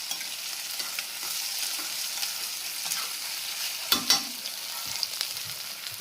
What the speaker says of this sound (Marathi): परतवून घेतोय कांदा लसूण राय आणि बटाटे टाकले ते आता परतवून टाकायची